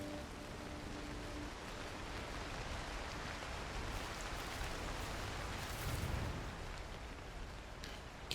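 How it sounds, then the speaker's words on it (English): Steady, hissing rain falls in the climbing survival game Cairn, a constant wash of noise with no voices and only a slight swell near the end. "It's raining again."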